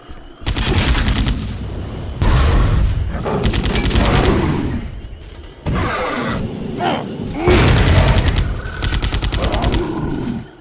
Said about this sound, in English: There's a gorilla bombing this bridge, and I'm not sure if it's going to collapse on me